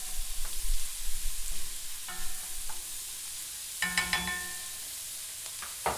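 Onions sweat in a pan with garlic, ginger and cumin seeds for smoked eggplant baingan bharta, a soft continuous sizzle broken by several clinking stirs of a utensil against the pan, no talking.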